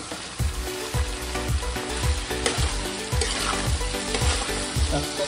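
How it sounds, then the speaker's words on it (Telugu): Chopped beans stirred into frying vegetables for vegetable dum biryani, steady close sizzling with rhythmic scraping strokes of the spoon roughly every half second. "మనం ముందే కట్ చేసుకొని పెట్టుకున్నటువంటి బీన్స్, దీన్ని మొత్తాన్ని మంచిగా కలుపుకుందాం."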